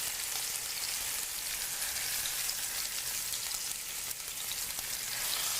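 Chicken pieces browning in a hot pan give off a steady, dense sizzle and crackle that holds at an even level throughout, with no voices.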